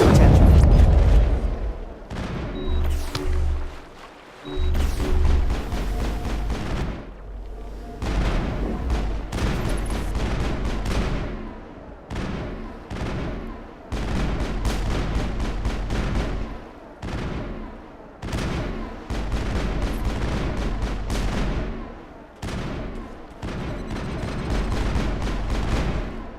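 Gunfire and explosions in the video game Mass Effect, with loud, close bursts of shots and heavy booms that repeat throughout at an uneven pace, and short lulls in between.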